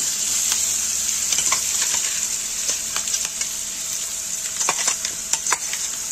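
Green chillies fry in hot oil for vada sambar, a loud, steady crackling sizzle with scattered pops and occasional stirring scrapes close by.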